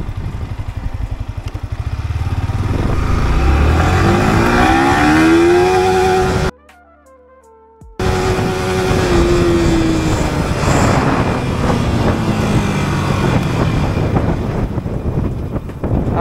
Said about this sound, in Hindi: सबसे पहले फर्स्ट गियर शिफ्ट करेंगे, फर्स्ट गियर शिफ्ट कर दिए और आपको भगा के दिखा देते हैं।